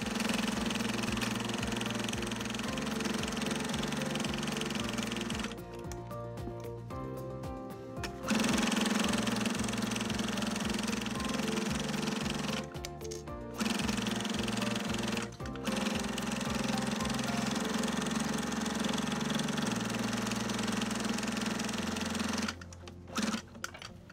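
Sewing machine top stitching with Aurifil 50 weight thread while making a holiday stocking, a continuous close mechanical whir with shifting low tones and brief rattling changes, running steadily throughout.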